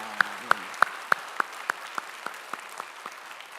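A church congregation at a Sunday worship service claps in an even, measured rhythm, about a dozen sharp claps spaced evenly apart that gradually fade as the clapping winds down.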